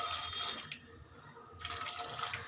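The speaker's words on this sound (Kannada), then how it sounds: "ಸ್ವಲ್ಪ ನೀರು ಹಾಕಿ" Water poured into a pot of village-style masakai sambar on a gas stove, a steady close splashing stream that briefly pauses and then resumes, with no voices.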